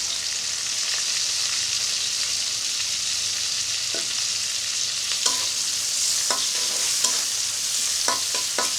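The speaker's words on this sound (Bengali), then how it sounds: "এরপরে রসুন কুচি দিচ্ছি সামান্য পেঁয়াজ কুচিও দিয়ে দিচ্ছি" Chopped garlic and a little onion frying in oil with cumin for a Bengali mas kalai dal tempering, a loud continuous hiss and crackle, close up, with several sharp clicks of a spoon against the pan toward the end.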